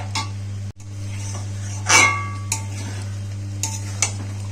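Chicken is stirred in a pot, with a few distinct scrapes and clinks of a spoon against metal over a low, steady hum and a faint sizzle.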